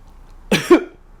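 A voice imitates a movie-theater cough: a short, sharp, two-part cough close by, alone against quiet.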